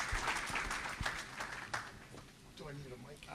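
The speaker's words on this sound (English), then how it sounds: "Please, huge round of applause for these two guys." Audience applause at a live talk event, a burst of clapping from a room of people that fades over a few seconds, with a voice speaking over the end.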